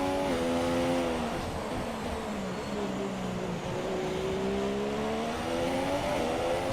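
Formula 1 race car in the F1 2017 video game pitting during a career-mode race at the Chinese circuit, its steady high engine drone shifting pitch as it slows into the pit lane, with other cars' engines layered faintly behind.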